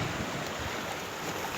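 Strong wind by the rough sea at Dammam Corniche during a fishing outing, a steady broadband roar buffeting the microphone with no voices.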